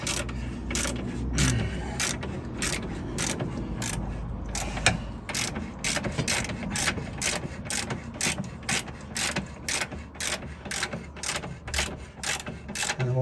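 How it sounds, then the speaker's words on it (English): A hand ratchet clicks rapidly and steadily, close and loud, while undoing bolts on the front right control arm of a 2008–2015 Toyota Avensis 2.0 D4D, with repeated bursts of clicking and brief pauses. "we've a spanner up here and a ratchet down here, so we'll undo these as well."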